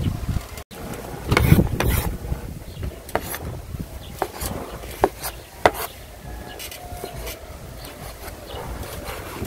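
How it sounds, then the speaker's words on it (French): A knife chops ham on a cutting board for a Beninese hors d'oeuvre, making scattered, sharp knocks of varying loudness over a busy background hum. "je vais quant à moi bien hacher mes jambons que voici"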